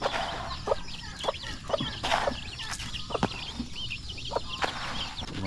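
Chickens cluck close by on a Filipino farm, a busy overlapping chorus of short clucks and chirps over a soft outdoor background.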